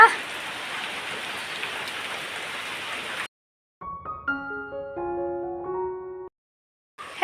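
Steady rain falling, a dense even hiss for a few seconds, then a break into soft melodic chimes with no rain.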